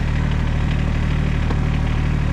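Tractor engine idling outdoors on a snowy day, a steady, loud, close mechanical rumble with a constant low hum and no change in pace throughout.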